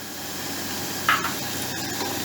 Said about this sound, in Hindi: लहसुन, अदरक और मिर्चों का पेस्ट डालने के बाद इसको 1 मिनट तक मैंने थोड़ा फ्राई किया है।